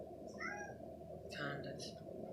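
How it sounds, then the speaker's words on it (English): A cat meows twice, moderately close but soft, over a low steady background hum. "That cat."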